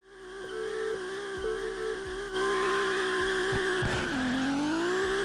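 Race car engines in the Japanese street racing game Kanjozoku, a steady high revving drone with brief shifts and a sudden pitch drop near the end, close and continuous, with no talking.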